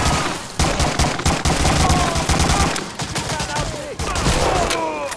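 Dense gunfire fills a battle in the video game Medal of Honor: Breakthrough, with rapid bursts of automatic fire and sharp shots crowding together nonstop at close range and loud throughout.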